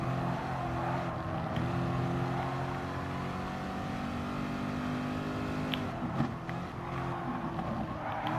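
In the Gran Turismo Sport racing game, a Chevrolet Corvette C7 Group 3 race car's engine gives a continuous loud drone with rising and falling revs as it works through gears.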